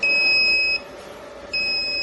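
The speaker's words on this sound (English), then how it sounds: "The buzzer alarm and the synchronous belts reverse." Buzzer alarm on an EW-2850 machine sounding after an emergency stop, a loud high electronic tone in two bursts separated by a short gap, close and clear over a low mechanical background.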